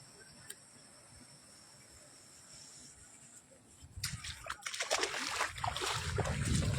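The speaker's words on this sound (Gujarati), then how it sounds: "હજી તો પાણી જાય છે ખેતરું માંથી બે." Floodwater running out of a farm field damaged after a river changed course, starting as faint background with insects chirping, then swelling into a loud rushing, splashing flow close by.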